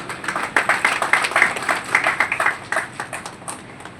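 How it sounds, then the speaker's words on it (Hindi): An audience claps steadily to welcome a zonal assurance head at a Union Bank of India MSME outreach event in Bhadohi, a continuous mid-level patter of many hands with a faint voice beneath. "एक बार जोरदार तालियों से प्लीज स्वागत करें हमारे जोनल एश्योरेंस हेड सर का।"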